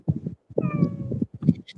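A pet cat meowing indoors, several close, drawn-out and insistent meows in quick succession with short gaps between them, no speech over them.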